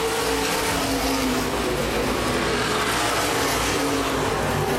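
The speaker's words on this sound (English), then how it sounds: "Now Gatton goes to the outside of Brent Martin for the race lead." Open wheel modified race cars roar around a speedway oval during a feature race, a loud continuous engine drone heard from a distance, with no talk over it.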